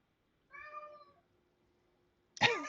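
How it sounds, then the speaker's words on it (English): A single cat meows once with a drawn-out, harmonic cry, fairly close and clear, then silence before a sudden burst of louder noise near the end. "I hear a cat."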